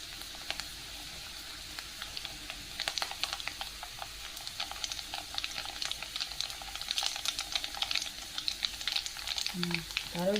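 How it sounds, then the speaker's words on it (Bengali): Nigella seeds spattering in hot oil in a pan, a quiet, continuous sizzle dotted with crisp popping crackles, close and steady, no talking. "কালো জিরেগুলো তো খুব ছুটছুট ছুটছুট করছে।"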